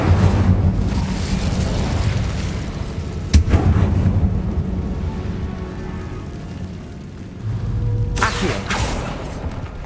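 An Incendio fire spell is cast in the video game Hogwarts Legacy: a loud, rumbling roar of flame with a sharp burst partway through and a second surge near the end.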